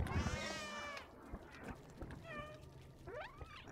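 A cat in the video game Stray meows several times, a long drawn cry followed by shorter and rising meows, with faint clicks and game sounds between.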